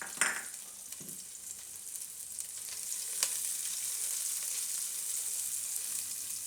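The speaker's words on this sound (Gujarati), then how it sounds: "અને આમાં જે આપણે આ મરચાંને શેકી લેવું. થોડુંક તેલ નાખશું." Green chillies fry in a little oil in a pan, giving a steady, soft sizzle with a brief sharper crackle near the start and no voices.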